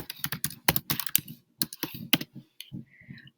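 Typing a password on a computer keyboard, a quick, close run of crisp key clicks in short bursts with brief gaps, no voices.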